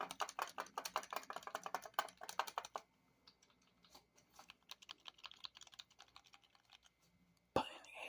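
Rapid bursts of small plastic clicks from the buttons of Quest 3 VR controllers, close and crisp, with a quieter, sparser stretch before a sudden louder clatter at the end.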